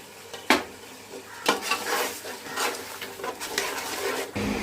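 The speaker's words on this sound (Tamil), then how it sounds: "கட் பண்ணி வச்சிருக்க சிக்கன் பீஸை உள்ள போட்டு நல்லா மிக்ஸ் பண்ணி விடுவோம்." Chicken pieces are stirred into biryani masala in a pan. A spoon scrapes and clinks against the metal in uneven strokes over a soft sizzle, close but fairly quiet.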